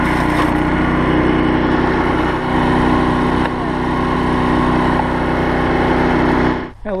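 A loud wood chipper engine drones steadily with a grinding, churning roar as branches are fed through into mulch, cutting off sharply near the end.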